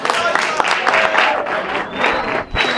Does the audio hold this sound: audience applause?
yes